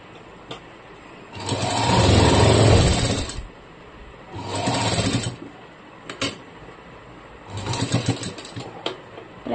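A sewing machine stitches a nightie, running in three short bursts of rapid mechanical whirring, the first longest, separated by quiet pauses as the fabric is reversed.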